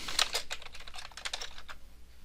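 Fingers type quickly on a computer keyboard, a close, dense patter of light clicking keystrokes over a couple of seconds with no voices.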